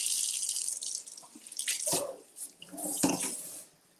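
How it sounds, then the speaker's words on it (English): Hands being washed under a running tap at a kitchen sink: splashing, uneven water noise with a few stronger gushes, close by, fading at the end, with no talking. "Let's just wash hands just to make sure."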